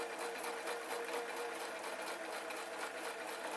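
A sewing machine stitches a denim skirt along a curved seam, its steady rapid whirring running close and unbroken, with no voices.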